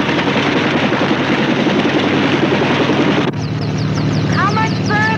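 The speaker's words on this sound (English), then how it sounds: "The Army is rushing two doctors to Las Vegas by way of helicopter." An Army helicopter flying doctors toward Las Vegas gives off a loud, constant rotor-and-engine roar. The roar drops abruptly partway through, and voices then come in over a softer drone.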